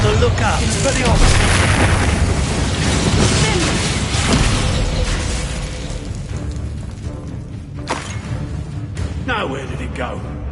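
Booming magical blasts from the Confringo spell fire repeatedly during a Hogwarts Legacy duel, loud and dense with crackling bursts, then sharper separate hits near the end as a voice shouts spell names over the fight.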